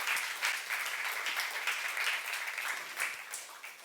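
Church congregation applauding during a youth-group sermon, a steady, dense wash of many hands clapping together for several seconds, fairly soft and heard alone without talk.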